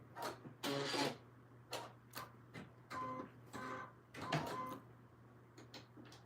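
An embroidery machine trims its thread during a tee-shirt project with a series of quiet mechanical clicks and whirring bursts, uneven and close, with pauses between them.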